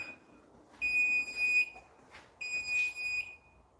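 A garage door opener sounds its warning beep as two separate, sustained electronic tones, each lasting just under a second, with a short gap between them; the tones are clear and close against a quiet background.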